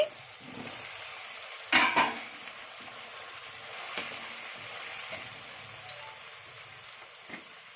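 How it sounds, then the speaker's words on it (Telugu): Mushroom pieces tipped into a frying pan for mushroom curry: a sharp burst of crackling as they land, then a softer steady sizzle with occasional stirring scrapes, no voices. "ఇప్పుడు ఇందులోనే మష్రూమ్ ముక్కల్ని వేస్తున్నానండి."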